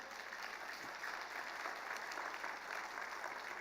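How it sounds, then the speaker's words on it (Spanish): A church congregation gives sustained applause during a sermon, an even, continuous wash of many clapping hands heard from some distance at low volume. "Un aplauso por el Señor."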